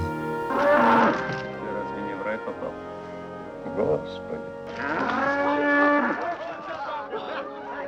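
A cow moos loudly close by in two long, drawn-out calls separated by a short pause.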